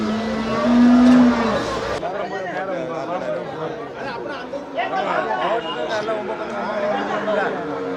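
At the Melapalayam cattle market, a cow gives a low moo near the start, then the busy crowd of buyers and sellers talks continuously around it.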